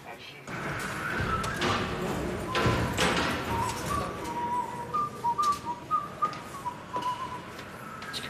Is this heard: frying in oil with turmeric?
no